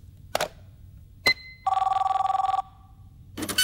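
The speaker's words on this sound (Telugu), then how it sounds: "అది ఫోన్ కాదు ఫ్యాక్స్" A fax machine in an office rings with a warbling electronic bell tone, a single close, loud trill lasting about a second between brief clicks and handling noises.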